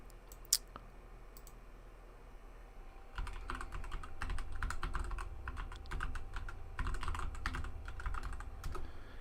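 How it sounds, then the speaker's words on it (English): Typing on a computer keyboard: after a brief quiet start with a click, a run of rapid, uneven key clicks sounds close by, continuing steadily with short pauses and no talking. "I'm going to have to type this in manually."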